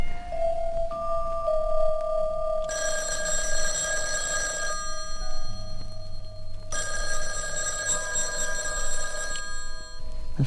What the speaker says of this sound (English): The phone rang a couple of times.